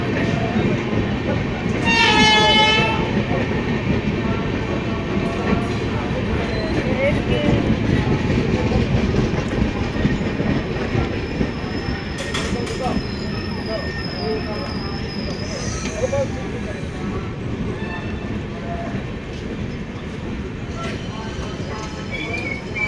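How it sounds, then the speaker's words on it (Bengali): Poorva Express pulling out of Jhajha station after a half-hour halt, a steady rumble of rolling wagons and wheels throughout with a brief horn near the start and faint voices in the background. "ঝাঁঝা থেকে আমাদের ট্রেন আধ ঘন্টা হল্টের পর ছাড়লো।"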